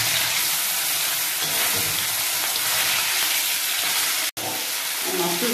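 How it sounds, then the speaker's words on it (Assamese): Pieces of fish, rubbed with salt and turmeric, fry in hot mustard oil, giving a loud, continuous sizzling hiss up close that pauses briefly for an instant before carrying on. "ইতিমধ্যে এয়া তেল গৰম হৈছে গতিকে মই মাছ এপিচ এপিচ ইয়াতে"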